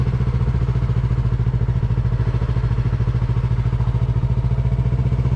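A motorcycle engine runs loud and close in a steady, fast rhythmic chug as the rider adds throttle, with no voices over it.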